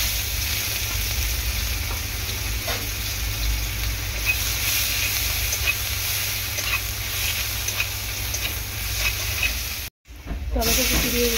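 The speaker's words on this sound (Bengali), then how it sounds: "আর এখন কড়াইতে দিয়ে দেবো পেঁয়াজ," Onion frying in a kadai gives an even, hissing sizzle at close range that holds steady throughout, with one brief dropout shortly before the end.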